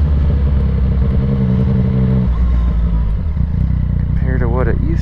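A Yamaha FZ-09 motorcycle with a flash-tuned ECU runs steadily and close by, its engine drone continuous throughout, with a brief higher-pitched whine rising near the end.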